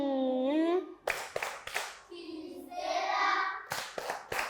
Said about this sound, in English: A big hand clap for him